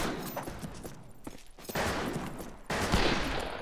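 Pistol gunshots in the multiplayer video game Fistful of Frags, a few sharp shots at moderate level amid game noise, with no talk over them.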